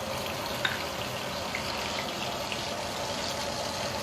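Fenugreek seeds and bay leaf sizzle in hot oil as a tempering for fish curry, a steady close crackle with a few small pops throughout.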